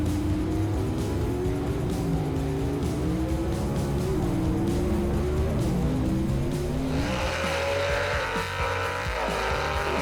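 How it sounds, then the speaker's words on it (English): A gasser drag race car in the C-Gas division roars down the racetrack at Shadyside, its engine a loud, continuous revving drone that rises in pitch as it accelerates, with a brighter burst of noise near the end. "Jared Purdue powers on with that Gene Fulton power down the racetrack to the win"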